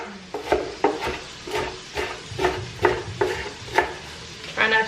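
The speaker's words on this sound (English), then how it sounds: "Now I'm just gonna do kind of like a rough chop." A knife rough-chops onion on a cutting board, with about a dozen crisp, close knocks spaced irregularly and a faint low hum underneath.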